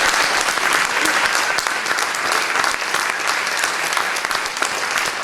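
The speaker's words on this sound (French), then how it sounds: "sous les applaudissements." Dense, sustained applause from a concert audience after a choir performance, many hands clapping close and loud without pause.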